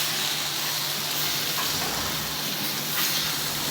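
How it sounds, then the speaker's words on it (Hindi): Fried mixed vegetables tipped into a pan for Punjabi-style mix sabzi and stirred, giving a steady close sizzle and hiss with light scraping, with no talking. "अब मैं अपनी सारी वेजिटेबल्स जो फ्राई हुई हुई थी वो इसमें डालूंगी और अच्छे से चला दूँगी।"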